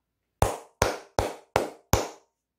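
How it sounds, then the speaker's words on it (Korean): Five sharp, evenly spaced hand claps, close and dry, each ringing out briefly before the next, with silence around them. "박수 한번 크게 치고 가도록 하겠습니다"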